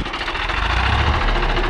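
A Swaraj 855 FE or Farmtrac tractor engine runs steadily near 1500 RPM, a loud, close, continuous diesel rumble with a fine rhythmic knock throughout.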